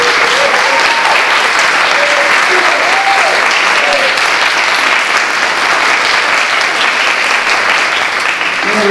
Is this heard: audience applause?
yes